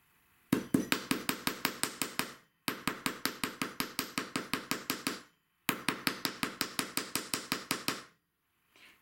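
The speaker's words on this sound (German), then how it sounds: "So, und jetzt wird praktisch gehämmert." A hammer taps repeatedly on aluminium wire for a braided bead bracelet, in three quick, even bursts of about a dozen sharp, close metallic knocks each, separated by short pauses.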